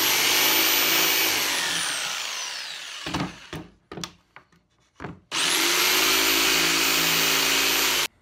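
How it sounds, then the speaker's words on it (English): A table saw blade whines at full speed, then drops into a router table top for a plunge cut, giving short bursts of cutting and knocks, and then spins back up to a loud steady whine. "I think I'm going to try dropping it down on the table saw."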